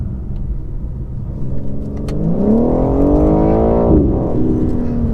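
A 2020 BMW M4 Competition heard from inside while driving: a deep engine rumble climbs in pitch as the car accelerates hard, briefly dips at a gear change, then pulls on loudly and close, with no voices.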